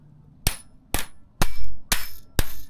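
Hammer striking a hard object that will not go in, five loud, sharp metallic clangs about half a second apart, close by, each ringing briefly before the next blow.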